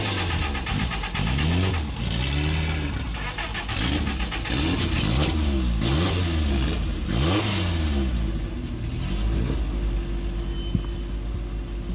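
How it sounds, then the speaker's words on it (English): A racing car's engine starts and runs, a loud rhythmic revving that rises and falls in repeated swells before settling into a steady idle drone. "So I finally got the car started and I'm ready to go out."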